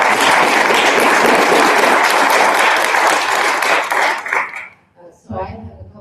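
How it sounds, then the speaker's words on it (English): An audience at a healthcare privacy protection challenge session gives a round of applause. The dense clapping lasts about four and a half seconds, then fades out and a voice begins to speak. "we should give them a round of applause for all their hard work"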